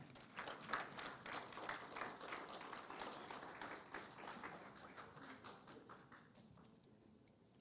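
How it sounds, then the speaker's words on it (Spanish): A church congregation applauds steadily for several seconds, dense clapping that gradually thins and fades toward the end. "Denle un aplauso al Señor, hermano."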